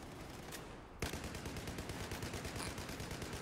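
Rapid automatic gunfire in the multiplayer shooter Battlefield 4, a dense continuous stream of shots that jumps louder partway through and keeps rattling without pause, with no talking.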